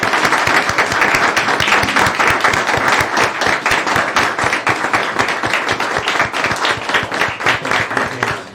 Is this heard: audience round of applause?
yes